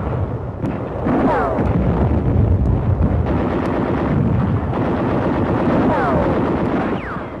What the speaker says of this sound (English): mortar, machine gun, and small arms fire meet the men as they hit the shore